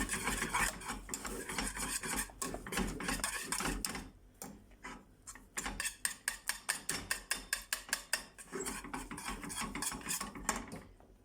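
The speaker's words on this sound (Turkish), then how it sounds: "Dibine tutturmadan hızlı hızlı karıştıralım." A thickening homemade kashar cheese mixture is stirred fast in a pot, with scraping utensil strokes that speed into a rapid, even rhythm of short scrapes after a brief pause, close and clear, with no talking.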